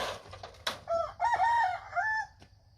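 A rooster crows loudly and close by among chickens and ducks on a rural Thai farm, a single drawn-out cock-a-doodle-doo with scattered clucks around it.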